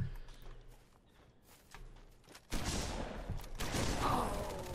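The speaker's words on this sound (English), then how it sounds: "Ooh, the Halo 3 battle rifle." Battle rifle gunfire in the Halo 3 video game: quiet thuds and footsteps first, then a sudden loud stretch of rapid shots that keeps going until the end.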